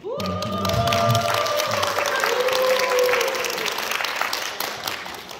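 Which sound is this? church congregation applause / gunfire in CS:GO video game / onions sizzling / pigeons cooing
church congregation applause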